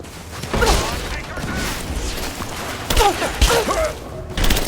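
Gunfire and a grenade blast ring out during a firefight in Rise of the Tomb Raider, with thuds and bursts of shots under shouted voices across a busy, cluttered mix.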